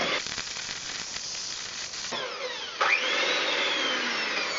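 An electric mixer beats white chocolate and raspberry cake batter: a steady whirring hiss whose pitch rises as the speed is stepped up partway through, running continuously and close by.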